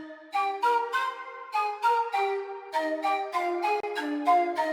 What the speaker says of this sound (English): short pan pipes, rare flutes on the Labs Plus preset